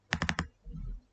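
Four quick, crisp keystrokes on a computer keyboard, close and evenly spaced, followed by a soft low thud as typing pauses.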